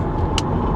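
A 1997 Volvo 850 Turbo drives at speed with a steady, loud road and engine rumble and a brief hiss partway through.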